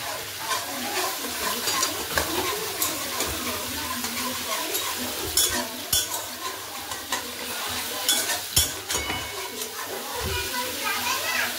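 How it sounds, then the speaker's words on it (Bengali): Potatoes for aloo dum fry a second time in a pan, a steady sizzle broken by spatula scrapes and knocks, while voices and children chatter in the background. "একবার ভাজা হয়ে গেছে আলু, আরেকবার ভাজছি"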